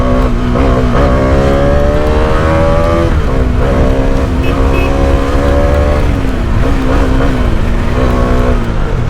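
A Bajaj Dominar motorcycle engine drones loud and steady at speed, its pitch sliding slightly up and down as the ride continues, with no talk over the rumble.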